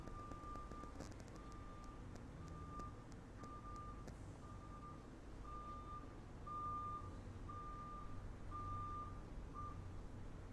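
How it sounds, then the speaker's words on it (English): Steady, evenly spaced reversing beeps from a backing truck sound outdoors over a low engine rumble, repeating about once per second throughout. "Oh, I hear a truck backing up outside."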